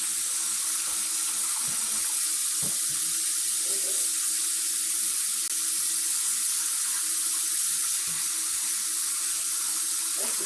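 Tap water runs steadily over cooked brown rice being rinsed in a sink, a continuous close splashing hiss with small shifts in flow and no voices.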